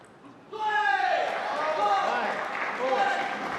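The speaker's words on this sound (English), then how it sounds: "It is a lively crowd here at the Broward County Table Tennis Club in Hollywood" Spectators at a Broward County Table Tennis Club match in Hollywood, Florida fill the room with loud, sustained cheering and chatter that swells suddenly and holds steady for several seconds.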